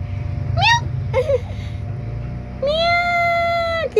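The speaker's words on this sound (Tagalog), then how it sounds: "Ganyan lang siya mag-meow." A pet cat meows three times, the first two short and rising, the last a long sustained meow, close and clear over a low background rumble.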